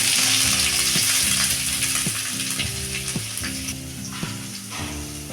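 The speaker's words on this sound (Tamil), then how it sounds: "2 பெரிய வெங்காயத்தை கட் பண்ணி சேர்த்துக்கலாம்" Onions frying in hot oil with cinnamon stick and cloves crackle in a dense, close sizzle, punctuated by regular clinks of a spoon stirring against the pan, no voices.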